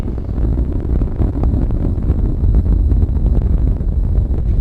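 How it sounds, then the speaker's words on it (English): Space shuttle Discovery's engines roar during launch as the vehicle climbs at nearly 750 miles an hour, a dense, steady, rumbling roar that stays loud and unbroken throughout. "engines beginning to rev up"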